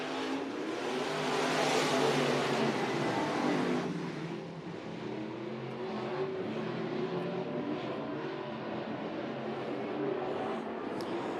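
IMCA race cars roar off at the green-flag start of a dirt track race at Deuce of Clubs Thunder Raceway in Show Low, Arizona, a loud blended engine drone that swells, dips, then holds as the field pulls away.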